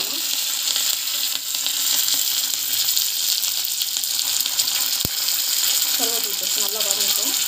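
Mustard seeds frying in hot oil for coconut chutney, a continuous loud sizzle with scattered crackles and pops, one sharp tap near the middle and a voice speaking faintly underneath toward the end.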